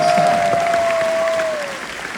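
Audience applause fills a convention panel for a Supernatural session, a dense steady wash of clapping from a large crowd that tapers slightly toward the end, with a faint tone running underneath.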